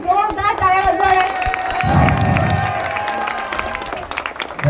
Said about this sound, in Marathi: सगळ्यांनी जोरदार टाळ्या वाजवाव्या